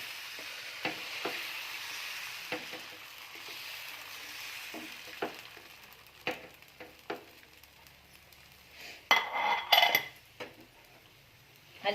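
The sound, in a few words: dosa batter spread on a hot griddle with a bowl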